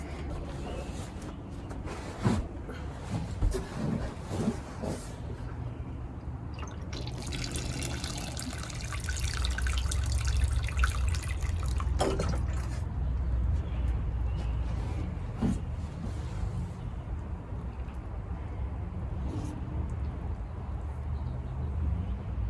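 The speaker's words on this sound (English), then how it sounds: "now I'm ready to water my plant." Water pours and splashes from a watering can onto soil, with intermittent trickling and gurgling, a steadier stream in the middle, and occasional handling clatter.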